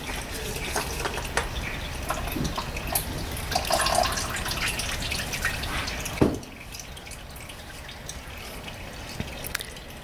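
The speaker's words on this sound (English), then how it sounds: "The oil that drips from that filter drips into this little collection thing, metal." Steady oil dripping and trickling from the oil filter of a 2007 Lexus RX400h into a metal collection container, close by, with faint clinks, then quieter dripping after a sharper knock.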